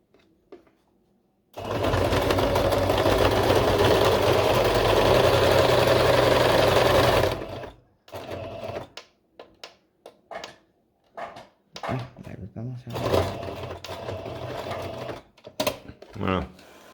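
A sewing machine stitches along the edge of a fabric face mask, running in one loud, close, continuous burst for about six seconds; afterward come quieter handling noises and a person talking.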